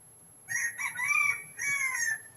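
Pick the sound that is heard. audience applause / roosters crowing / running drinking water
roosters crowing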